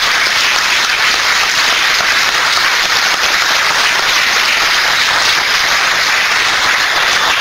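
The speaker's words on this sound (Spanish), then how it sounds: "sería bueno un aplauso para ambos, porque creo que se lo merecen" Sustained applause from a conference audience filling the room, dense and steady clapping at even loudness throughout with no talk over it.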